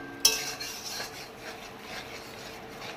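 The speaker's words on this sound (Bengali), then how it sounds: "আমি একটু নেড়ে দিচ্ছি" A utensil stirs ground spices and garam masala in a pan while Digha-style crab curry cooks: a sharp scrape opens, then soft rubbing and scraping strokes continue quietly and close by.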